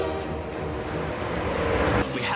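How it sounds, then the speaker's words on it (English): A loud, continuous rumble of a train rolling in, with rattling and clatter building slightly toward the end, no voices. "Final train of the day, now arriving."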